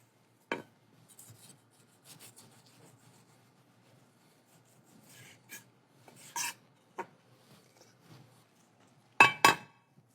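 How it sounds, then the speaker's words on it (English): Knife trimming fat from a rib roast on a board, with scattered soft scraping and rasping strokes, a few sharper clicks and taps, then two crisp louder knocks near the end, close and with no talking. "Just going to trim off a little bit of our fat here."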